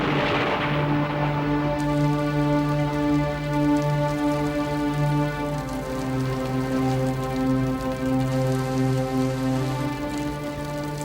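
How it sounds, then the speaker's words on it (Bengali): Rain falls in a steady, even patter that runs unbroken. A sustained tonal musical drone sits underneath it. No one speaks. "বৃষ্টি"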